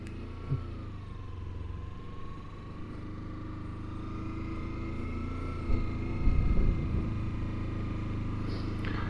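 Kawasaki Versys X300 motorcycle engine idling and puttering steadily during low-speed maneuvers, a low continuous hum with a couple of brief throttle blips midway, moderately close.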